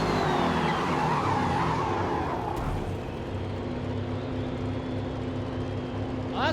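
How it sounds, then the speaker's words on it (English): A racing car in a video game locks its brakes and skids with a sustained tire squeal and engine roar, spinning out of control before striking a wall, with a brief scrape near the end. "Kitty locked up the brakes when the time went off. And in the process, the car spun out of control and hit the wall"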